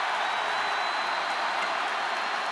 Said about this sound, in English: Listen to this crowd. What a feeling.